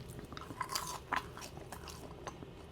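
Someone bites into and chews Burger King fries close to the mic, with a few soft crunches and quiet chewing sounds. No one talks.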